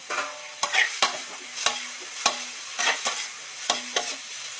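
Tomatoes sautéed with garlic and onion in a pan, a spatula knocking and scraping in a steady rhythm of sharp taps over a light sizzle, close, with no talking.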